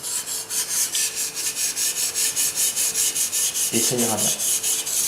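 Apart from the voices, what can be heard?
Japanese nakiri knife being sharpened on a whetstone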